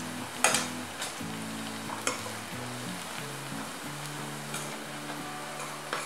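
Chili powder fries in oil with a quiet, even sizzle and a few light clinks of a spoon against the pan, while a low tonal hum drones steadily underneath.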